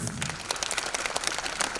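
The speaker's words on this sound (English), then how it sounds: "I request all the graduates to please give yourself a huge round of applause" Graduates at a graduation ceremony clap together in a dense, steady patter of many hands, fairly faint and distant, with no voices over it.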